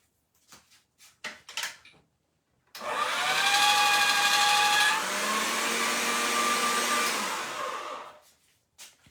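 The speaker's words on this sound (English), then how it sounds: "I'm going to take this to the pasta machine and try to get it thinner" Atlas Mercato 180 pasta machine rolling a sheet of polymer clay, a loud continuous mechanical whirring and grinding lasting about five seconds, with a few brief handling knocks before it.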